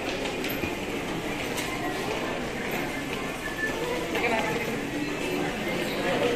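Riding an MRT train in Quezon City between North Avenue and Araneta Cubao stations: a steady rumble and rattle of the carriage with faint clicking rails, continuous and close, with people chattering throughout.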